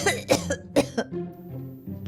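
Several sharp coughs in quick succession, close and fairly loud, with a bit of throat clearing and soft vocal sounds trailing off afterward.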